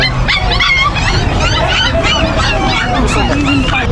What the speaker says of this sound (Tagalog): meron dito tayong nakikita yung mga aso, iba-ibang klase